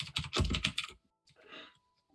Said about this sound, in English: you can hear me typing furiously when you all give me these rumors